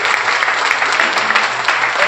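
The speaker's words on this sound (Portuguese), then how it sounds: "Pode aplaudir o Senhor Jesus." A church congregation claps together in steady, sustained applause at a worship night, a dense wash of many hands filling the room for about two seconds.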